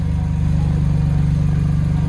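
A BMW E46 M3 missing a piece of its exhaust runs steadily with a loud, droning hum close by, holding an even pitch throughout with no distinct revs.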